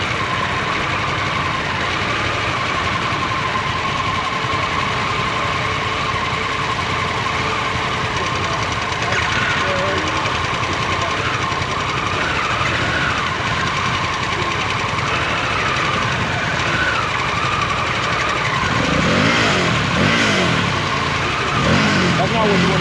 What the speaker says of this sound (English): I'm going to stay in that friction zone, or what some people call slipping the clutch or roasting the clutch.